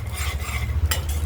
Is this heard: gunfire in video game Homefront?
no